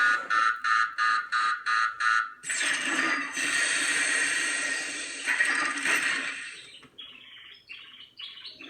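A Ghostbusters proton pack replica toy fires a rapid series of electronic bursts, then a long sustained blast, followed by a quieter repeating beeping overheat alarm.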